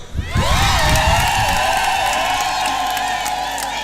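A large church crowd at a jubilee celebration in Moshi welcomes an archbishop with loud cheering and whooping, a swelling roar of voices with a sustained high ululating cry, near and dense, with applause mixed in.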